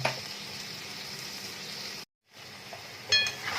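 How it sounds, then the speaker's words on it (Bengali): Chicken sautéing in oil in a pan over a medium gas flame gives a steady close sizzle. A brief cut of silence splits it, and a few utensil clinks follow near the end. "দিয়ে এখন চিকেনটাকে একটু ভালো করে আগে কষে নেব"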